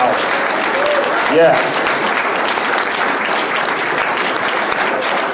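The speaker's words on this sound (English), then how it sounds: "he deserves one round of applause that is so loud" A community forum audience gives a sustained, loud round of applause, dense clapping filling the room throughout, with a brief voice at the start.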